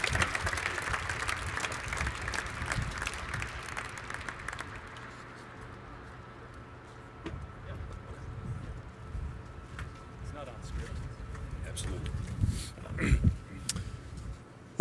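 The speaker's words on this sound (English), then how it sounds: "One more round of applause for Dr." Applause from a dinner audience gathered on a baseball diamond, a broad clapping wash that is loudest at the start, tapers off, then swells again near the end alongside voices and scattered background noise.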